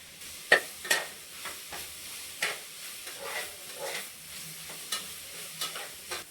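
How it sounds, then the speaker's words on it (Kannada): Vegetables frying in a pan with chilli powder and salt for soya pulao, a soft continuous sizzle with periodic scraping stirs of a spatula, close and fairly quiet. "ಸ್ವಲ್ಪ ಫ್ರೈ ಆಗಿ ತರಕಾರಿ ಸ್ವಲ್ಪ ಫ್ರೈ ಮಾಡ್ಕೊಂಡು"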